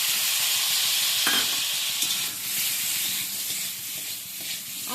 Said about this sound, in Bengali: এবার এগুলোকে একটু ভেজে নিচ্ছি কয়েক সেকেন্ড এরকম নেড়ে নিচ্ছি